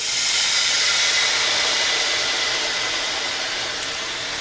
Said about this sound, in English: I've got about a 1/2 cup of white wine that I'm going to deglaze this with.